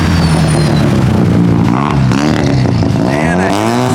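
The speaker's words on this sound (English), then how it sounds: "this RX-7 sounds insane" A Mazda RX-7 engine revs hard, its pitch climbing and falling in repeated surges, loud and close, while several people talk excitedly over it.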